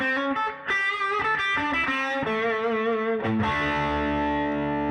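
An electric guitar plays a heavily boosted, distorted lick through an amp with an extra gain boost, a quick run of notes ending on a sustained, gritty held note.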